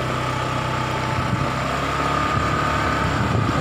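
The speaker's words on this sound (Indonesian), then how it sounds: "Tapi suara mesinnya ini agak mengganggu karena kasar." Engine of a 2019 Honda ADV150 CBS scooter on a test ride, a steady rough-sounding mid-pitched hum running continuously and fairly loud without any talk.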